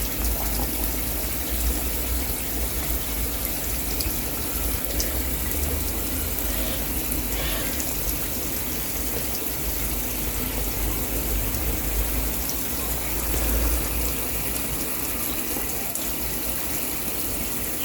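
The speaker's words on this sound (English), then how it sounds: "I've got the shower spray running" Shower spray pours steadily into a goldfish tank, a constant close hiss and gush of running water that continues unbroken throughout.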